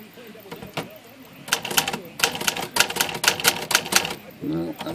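A Remington typewriter has its typebars pressed hard during alignment work, producing clusters of loud close mechanical clacks and taps in an uneven rhythm, with a voice talking over parts of it.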